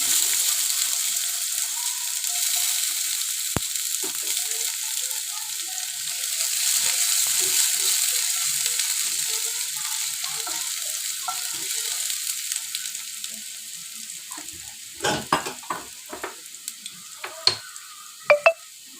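Chopped onion fries in a pan with a steady, even sizzle. A few sharp clinks and scrapes from stirring come in near the end, with no talking.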